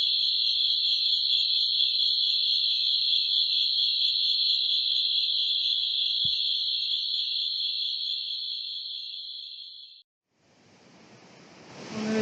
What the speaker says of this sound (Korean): 귀뚜라미 소리 외에는 아무것도 안 들립니다.